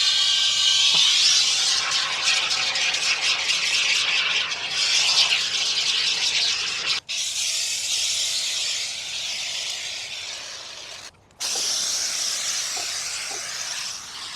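Steady hissing spray of expanding foam from an aerosol can as it fills a pot around an umbrella stake for a Christmas tree, close and continuous with two brief pauses in the flow.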